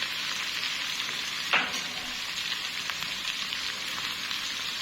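Hot green chili peppers sizzle steadily in a pan, a continuous bright frying hiss with one sharp scrape or clink of stirring partway through, close and alone with no talking.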